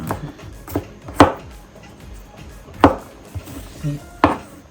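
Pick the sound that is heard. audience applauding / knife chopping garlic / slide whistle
knife chopping garlic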